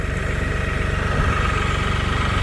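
The engine of a New Holland Workmaster 40 compact tractor pulling out boxwood bushes runs loud and close, a steady low throbbing chug with a fast regular pulse and no voices.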